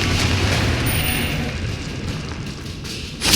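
A Confringo fire-blast spell cast in Hogwarts Legacy: a broad, booming burst with a rumbling low tail that fades over a few seconds, followed by a sharper bright impact near the end, with no talking.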